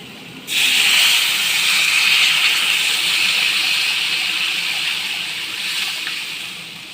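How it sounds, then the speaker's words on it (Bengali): Water poured into fried spice masala in a hot pan for egg curry, setting off a sudden loud hissing burst of steam that holds steady and slowly fades over several seconds. "মশলাটা ভাজি ভাজি হয়ে গেছে এবার আমি জল দিয়ে দেবো"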